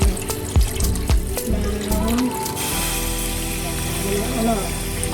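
Water runs steadily from a tap into a cooking pot, a continuous splashing pour after a few clanks and knocks at the start.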